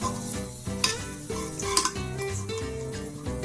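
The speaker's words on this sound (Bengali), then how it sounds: "ভাজার সময় একটু সাবধানে ভাজবেন যাতে তেল ছিটিয়ে হাতে বা গায়ে না পড়ে।" Beguni, battered eggplant fritters, fry in hot oil with a continuous close crackle and sizzle, broken by a few sharp pops and clinks, over a steady tonal hum.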